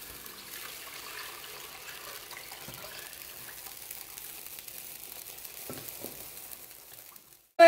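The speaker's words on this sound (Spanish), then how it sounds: "le voy a agregar el agua antes de que se pegue el queso" Water is poured into a pan of frying potato and cheese mixture, giving a steady, moderate sizzle that carries on without talk, ending with a sudden loud knock.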